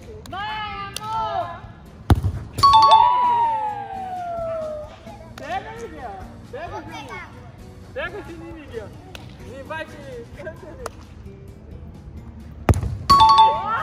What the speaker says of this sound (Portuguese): Pega o sininho, Miguel.